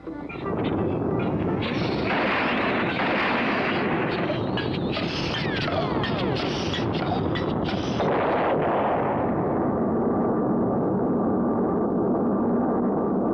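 A cartoon rocket blasts off with a loud, sustained roaring rumble that swells and churns without a break, staying close and powerful throughout, with no talking over it.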